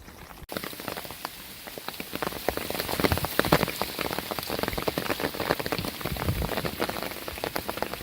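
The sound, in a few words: hail falling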